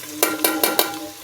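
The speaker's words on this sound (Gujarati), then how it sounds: "આપણે લીલા મરચાં અને આદુની પેસ્ટ પણ નાખી દીધી છે અંદર।" Green chilli and ginger paste are stirred into garlic frying in a pan, giving four quick, evenly spaced scraping strokes over a soft background sizzle.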